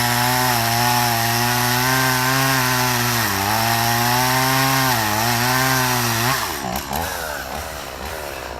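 A chainsaw cuts the back cut of a felled tree during farm logging, the engine holding a steady loud whine that dips under load several times before bogging down and fading near the end.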